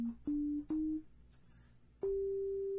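Pure sine-wave tones from a blank initialized patch on a Korg Opsix FM synthesizer, sounding as three held notes at slightly different pitches, each starting with a click and sustaining steadily, loud and alone.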